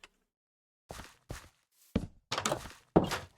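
Five or six short, blocky thunks in a quick uneven sequence from placing a door in Minecraft, close and dry with silence between hits, no speech over them.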